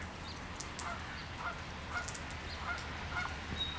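Geese near goslings honk outdoors in rain, giving faint, scattered calls over a steady wash of background noise.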